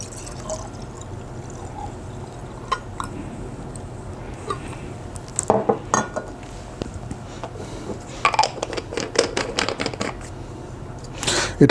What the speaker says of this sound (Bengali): ভালোভাবে নেড়ে নেব যাতে দ্রবণের সঙ্গে খুব ভালোভাবে মিশে যায়।